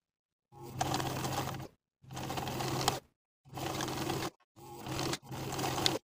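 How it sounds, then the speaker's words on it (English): A sewing machine stitches a trouser welt pocket in five distinct runs, each a steady mechanical whir lasting about a second, separated by short silent pauses, close and alone without talk. "We're going to sew the long edge of the tiny triangle to the welt and pocket underneath"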